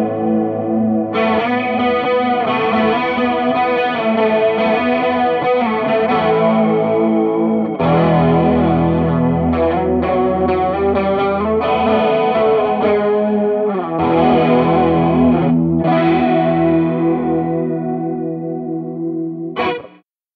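An electric guitar strums sustained chords through an Ibanez Bi-Mode Chorus pedal and a Purdy Tube Amps reverb pedal, a swirling chorus with slight grit. The shimmering modulation is clear and loud, and the notes ring out before a sudden stop.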